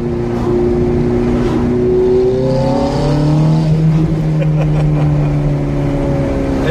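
A Ferrari engine revs on a test drive, loud and close, its pitch climbing and shifting through gear changes in a sustained roar without talking over it.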